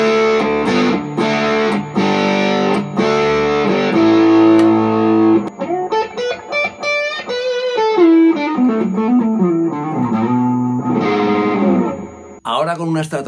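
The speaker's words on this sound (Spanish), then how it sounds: "Ahora me voy al modo Marshall. Tiene menos distorsión, menos fuzz y los graves más equilibrados." An electric guitar played through a Jaminabox Pedalcluster in its Marshall mode, giving a moderately distorted tone with balanced bass as sustained chords give way to quicker note runs, loud and upfront.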